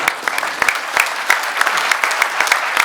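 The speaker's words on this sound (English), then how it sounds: "how about a big round of applause for everyone?" An audience at a talk on natural hop oil extracts breaks into steady applause, with dense clapping and a few louder individual claps throughout.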